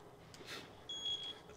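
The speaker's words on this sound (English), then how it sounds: "Beep." Electronic beep from the horror video game Outlast: a clean, steady high tone lasting about half a second, played over quiet background hiss.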